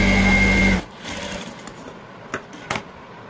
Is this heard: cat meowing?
no